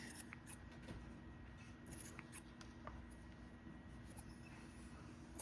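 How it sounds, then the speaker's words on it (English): Scissors trim the yarn ends of a tassel, a series of soft, close snipping clicks repeating irregularly in a quiet room. "Just gather them all together and then trim it to the same length."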